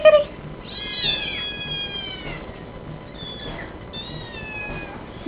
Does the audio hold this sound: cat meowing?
yes